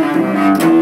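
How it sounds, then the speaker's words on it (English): A cello gives a short bowed note, deep and sustained, loud and close, lasting under a second with no voices over it. "It's called a cello."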